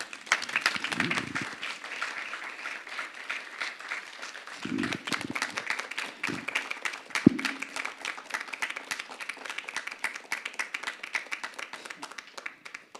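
Sustained audience applause fills a hall after a 90-minute talk on Jainism, a steady wash of many hands clapping with a few nearby voices and murmurs breaking through early on.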